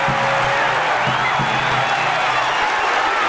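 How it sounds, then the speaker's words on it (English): A boxing arena crowd applauds and cheers as one dense, steady wash of noise that fills the whole span, loud and sustained, with a faint low voice underneath. "Big round of applause."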